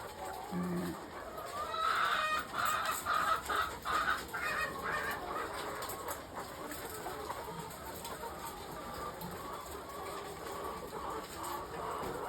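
Eighteen-week-old poultry farm hens clucking in a steady, busy patter, loudest early on and then fading into a lower, ongoing murmur of farmyard noise.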